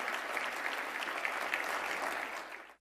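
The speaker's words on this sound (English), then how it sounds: "So please give yourselves a round of applause" An audience at a video game industry awards show applauds, a dense, even patter of many hands clapping at moderate distance that fades away just before the end.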